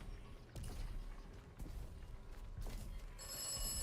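An old-style telephone bell rings in the Atomfall game, sounding in several short, fairly loud bursts with brief gaps between them. No one speaks.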